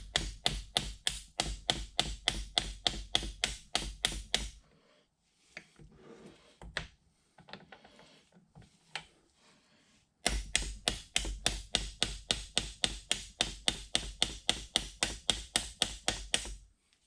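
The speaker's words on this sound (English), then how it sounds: "keep tapping on the drill as if it was a punch and see if I can't just drive this whole thing out the top" Rapid metallic tapping as a hammer drives a drill bit used as a punch through a pin on a 1960 South Bend lathe apron, two long steady bursts of close, sharp strikes separated by a quieter stretch of softer clinks and handling.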